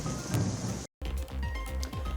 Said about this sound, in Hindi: सड़क पर बारिश का पानी पूरी रफ्तार से बह रहा है।